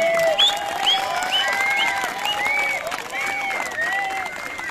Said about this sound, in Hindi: इसके लिए थोड़ी ज्यादा तालियां जा रही है।